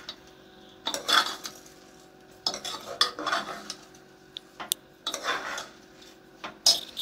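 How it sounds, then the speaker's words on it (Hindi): Veg pulao being stirred in a pot with a spoon, giving irregular scraping and clinking bursts close by with short pauses between them, and no talk. "अब इसको हम अच्छे से 1 मिनट के लिए चला लेंगे"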